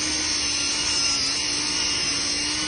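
An angle grinder spins at high speed smoothing a surface, giving a loud, continuous high-pitched whine with a steady tonal hum beneath, sustained without pause and with no talk over it.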